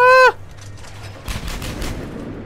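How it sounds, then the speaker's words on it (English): Mass Effect 3 combat on Tuchanka, with gunfire crackling in rapid bursts after a brief tonal chirp, moderately loud amid busy battle noise. "People are shooting at me."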